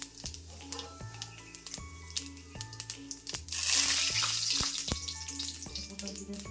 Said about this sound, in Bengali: গোটা জিরে ফোড়ন দেওয়া হয়ে গেছে